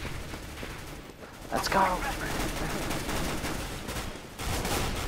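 Rapid gunfire rattles through a Counter-Strike: Global Offensive (CSGO) match as dense, continuous bursts of shots fill the background, while a player shouts briefly over the noise.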